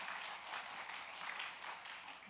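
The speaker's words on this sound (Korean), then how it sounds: "귀한 박수 부탁드리겠습니다" Congregation applauding during a Wednesday evening church worship service, a steady broad patter of many hands clapping continuously for a couple of seconds with no speech over it.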